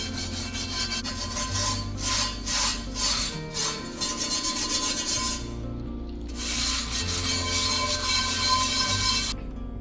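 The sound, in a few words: scrubbing rust off an old cast iron skillet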